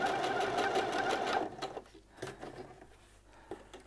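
A sewing machine stitching apron fabric runs in a fast, steady whir for about a second and a half, then stops, followed by a few quiet clicks and handling sounds.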